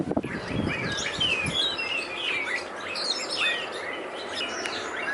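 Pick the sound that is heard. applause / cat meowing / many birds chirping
many birds chirping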